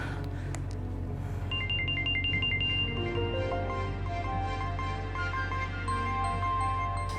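A mobile phone ringtone plays a repeating melodic pattern of beeping tones over a low, steady background hum, fairly faint and continuing for several seconds.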